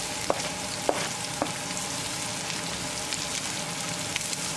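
Onion sautés over medium heat with green chili, a constant close sizzle broken by a few sharp clinks of stirring in the pan, and no one speaks.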